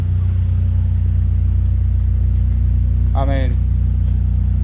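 A Honda Prelude engine idles with a steady, close low hum after its throttle-body idle speed screw was adjusted, running smoothly throughout while someone briefly speaks over it.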